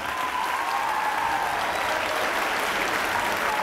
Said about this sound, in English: clap as loudly as you love the book